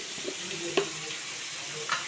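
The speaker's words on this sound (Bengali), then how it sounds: "এই দেখো আলু ভাজা দিয়ে এখন গরম করে দিয়ে দেবো।" Rotis being reheated in a pan with fried potatoes, a low steady sizzle with a couple of faint clinks from the pan, quiet and close.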